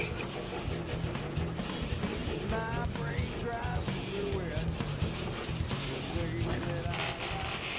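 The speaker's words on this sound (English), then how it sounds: "Every inch of the body is sanded in preparation for primer." A car body is being sanded in preparation for primer, a continuous close abrasive rubbing and scraping with a steady back-and-forth rhythm throughout and no talk.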